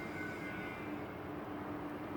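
An E-flite T-28B Trojan RC model airplane takes off in the evening, its electric motor giving a steady, fairly distant whine and drone with no changes across the whole stretch.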